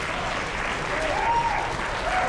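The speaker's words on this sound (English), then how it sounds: "round of applause for that" Steady applause from a convention audience during a live game show, a continuous crowd of clapping with a voice calling out over it.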